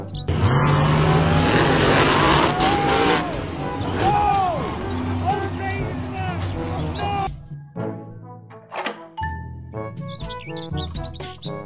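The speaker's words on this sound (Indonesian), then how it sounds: "Mobil truk monster." A cartoon monster truck in a children's video roars and revs loudly, then skids and crashes, followed by clattering bangs and brief musical notes.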